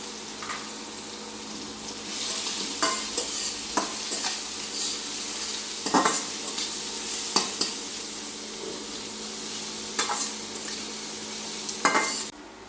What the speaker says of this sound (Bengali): পেঁয়াজটা ভাজা হয়ে যাচ্ছে, আমি সামান্য একটু হলুদ দিয়ে দেবো